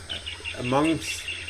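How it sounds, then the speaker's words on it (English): A dense chorus of rainforest insects and birds, with buzzing and a brief warbling call rising in the middle, all within a short stretch. "like the noise you can hear in the background, the rainforest noise"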